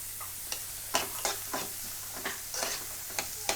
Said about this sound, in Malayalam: എന്നിട്ട് ഇത്ര ഇട്ട് നന്നായി വഴറ്റി കൊടുക്കുക. കുറച്ച് ഉപ്പ് കൂടെ ചേർത്ത് നന്നായി വഴറ്റുക.